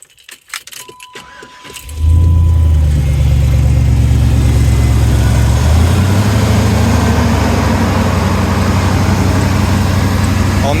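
An OBS Chevy truck with a swapped LS engine and stock tune starts up after some faint clicks and keys jingling, then settles into a loud, steady idle close by.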